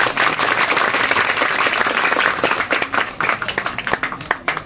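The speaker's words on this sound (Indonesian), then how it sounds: "Tepuk tangan untuk ayah saya." A room of listeners at a talk with a writer bursts into applause, a thick, continuous clapping that later thins into scattered, distinct hand claps near the end.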